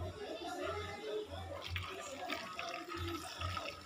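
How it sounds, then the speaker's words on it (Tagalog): Hot water poured onto pili nuts splashes and trickles in a close, bubbling stream, with a muffled voice talking underneath at moments. "Lagyan natin ng mainit na tubig."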